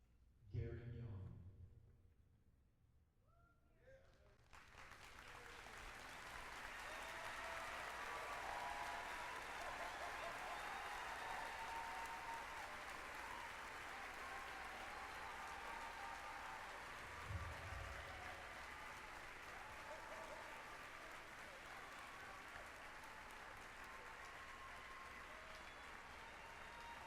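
Sustained applause from an audience at an eighth grade promotion ceremony, steady and full for over twenty seconds after a short quiet lead-in with brief speech at the start.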